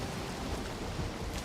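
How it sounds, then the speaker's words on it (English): Steady rain falls over a swamp in a hardcore survival video game, a continuous broadband hiss with a soft low rumble beneath and no voices. "Is it always raining in the swamp?"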